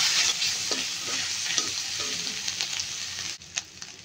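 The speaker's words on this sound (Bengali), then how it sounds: "আদা রসুন বাটা দিয়ে ভালোভাবে নাড়াচাড়া করে মিশিয়ে নেব।" Ginger-garlic paste being stirred into browned onions in a frying pan: continuous loud sizzle with scraping spoon strokes, a brief drop near the end before the frying noise resumes.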